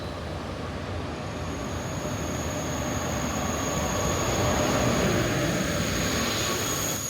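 Morocco's Al Boraq high-speed train rolls along with a steady, loud rumble of wheels on rail, topped by a thin, sustained high whine that swells slightly midway.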